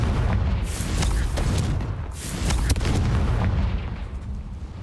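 A Confringo fire spell in Hogwarts Legacy erupts in a loud, sustained explosive roar with booming crackles, close and dense for several seconds and heard alone without talk.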